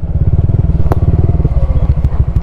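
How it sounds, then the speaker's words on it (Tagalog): Motorcycle engines, including a Honda Click 125i v3 scooter and a Yamaha Sniper 155, idle close by at a roadside food hub, a steady throbbing put-put with light clatter and a brief knock partway through. "Dun pala ang mga motor."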